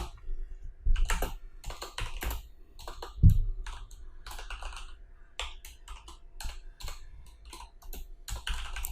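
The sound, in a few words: typing code on a computer keyboard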